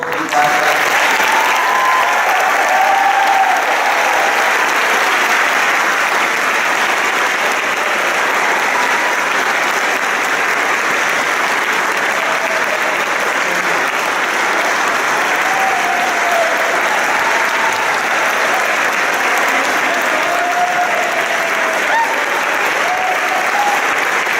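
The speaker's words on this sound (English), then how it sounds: "Can I have a round of applause for you?" A long, loud, steady round of applause from the audience at a fire department graduation ceremony for a graduating class, sustained dense clapping with faint cheers rising here and there.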